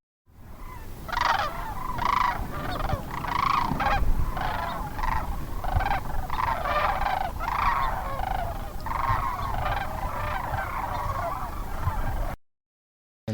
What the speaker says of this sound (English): there's several thousand cranes. So it's pretty loud.